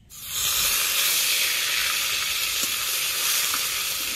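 Whole cumin and onion paste hit hot oil with garam masala for a rohu fish curry, bursting into a loud, close, steady hiss that holds without a break until the end, with no one talking.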